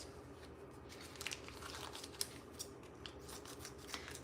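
Scissors cutting open a plastic food pouch in a home kitchen, a run of close, crisp crinkly snips and crackles over a quiet background.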